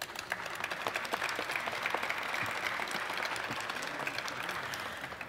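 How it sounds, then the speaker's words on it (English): Steady, dense applause from a full audience at an evening welcome reception in the Andrew W. Mellon Auditorium, sustained and even throughout without pause. "how about a round of applause for yourselves?"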